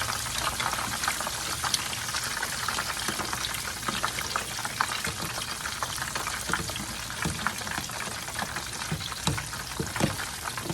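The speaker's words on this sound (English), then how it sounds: "The salmon croquettes have been frying for about 3 minutes now." Salmon croquettes sizzle and crackle steadily in hot oil, a dense, continuous frying hiss with scattered pops, close and fairly loud, no voices.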